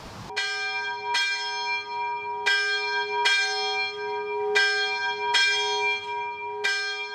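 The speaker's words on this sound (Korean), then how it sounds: "분지 형태의 옥천에서는 누구나 이 성당의 종소리를 듣고 자랐다고 한다" The bell of a century-old Catholic church, the first in Okcheon, a basin town, rings out in repeated loud strikes roughly a second apart, each one leaving a long shimmering ring that overlaps the next.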